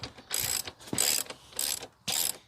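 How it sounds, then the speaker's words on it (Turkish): A ratchet wrench with a 21 mm socket turns a motorcycle's rear axle nut loose, giving four short bursts of rapid clicking ratchet pawl, close and fairly loud, with brief pauses between strokes and no talking. "Öncelikle arka teker milimi 21 lokma ile şöyle söküyorum"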